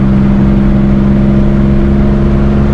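A loud Nissan 350Z engine drones heavily on an autumn backroad, with a constant, deep exhaust note heard from inside the car and no break for the whole stretch.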